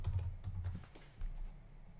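Quick keystrokes on a computer keyboard while entering web page links, a brief run of clicks up front that thins to quieter taps, close by with no talking.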